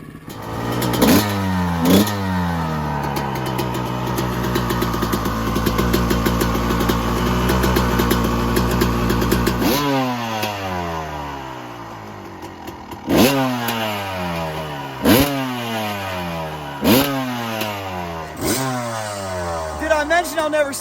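A Kawasaki KX 250 dirt bike set up for woods riding revs loudly and close by, with a long sustained rise and fall of the engine followed by a series of sharp, repeated throttle blips that rise and drop back.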